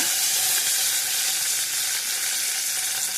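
Curry leaves sizzling steadily in hot oil in a pan for Udupi-style matar upma, a dense, continuous crackling hiss, close and loud throughout with no voices.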